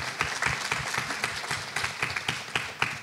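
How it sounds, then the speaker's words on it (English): A crowd at a school careers day claps steadily with dense, rhythmic hand claps at moderate volume and no voices over it. "Let's give her a round of applause"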